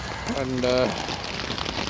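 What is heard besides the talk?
heavy rain pouring onto a hammock tarp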